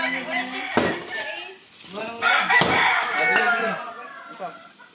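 Chickens in commotion, clucking and squawking in overlapping agitated calls close by, with scattered knocks and a voice in the mix.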